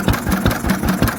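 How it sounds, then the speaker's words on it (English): An old Lister engine running for the first time in about 40 years, with a steady rhythmic thumping beat of firing strokes close by and nothing else over it. "This is the first time this engine has ran up to temperature in best part of 40 years."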